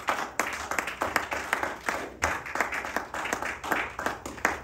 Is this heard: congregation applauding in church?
yes